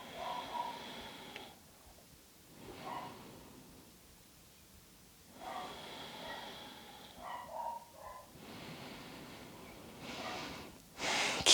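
Slow, deep breaths during an Earth Day yoga flow, several long airy inhales and exhales spaced a few seconds apart, soft and close with no talk.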